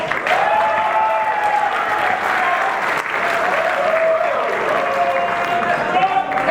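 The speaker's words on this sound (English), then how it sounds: "Give John a round of applause" A loud, dense round of applause from a gala crowd at a fraternity's 100-year celebration, sustained and even throughout, with voices and cheering mixed into the wash of clapping.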